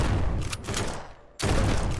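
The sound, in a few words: shotgun firing in a zombie survival video game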